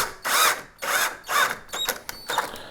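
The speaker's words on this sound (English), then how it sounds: "You kind of push in on this, and then you screw it into place." Power drill driving a screw into the corner of a single-hung retrofit window frame, three close, loud whirring bursts followed by shorter ratcheting spurts as the screw seats.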